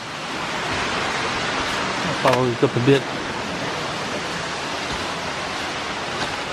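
A big waterfall in Bankhead National Forest, Alabama roars as a steady broad wash of rushing water, with someone speaking briefly over it partway through.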